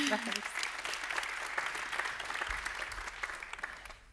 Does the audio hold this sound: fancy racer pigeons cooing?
no